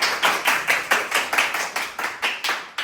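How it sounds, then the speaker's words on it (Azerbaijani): Children clap together in a dance hall, about a dozen loud, evenly spaced claps in a steady rhythm, close and alone with no talk over them. "Uşaqlar bir dənə alqışlayaq."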